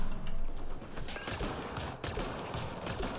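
Explosions and gunfire in the Mass Effect: Andromeda multiplayer game: a dense, continuous barrage of blasts and shots with sharp bursts, loud and close, with no clear speech.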